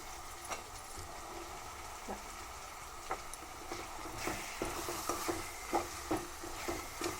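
Soaked ingredients dropped into hot oil for tempering, a continuous soft sizzle and hiss with occasional spoon scrapes and light taps, growing a little busier toward the end, quiet and close without speech.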